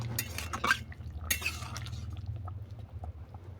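Fennel greens boiled soft in a cooking pot are stirred with a utensil, giving scattered near clinks and scrapes against the metal over a low simmering rumble, with no voices.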